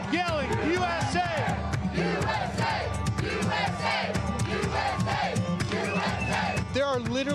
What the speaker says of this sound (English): You can hear the crowd yelling, USA!